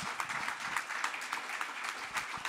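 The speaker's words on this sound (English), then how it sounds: "I would like to give some applause to all of you" Moderate applause from a seated audience at a museum panel discussion, a steady patter of many hands with a few sharper claps popping out, fairly even throughout.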